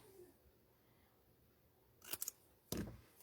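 Scissors trimming a small piece of material in a quiet room, a few quick close snips in two short bursts.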